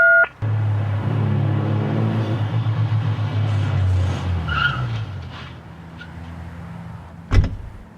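A recorded car pulls in with a loud droning engine whose pitch sinks as it slows, then fades down, ending in a short sharp knock or thud near the close.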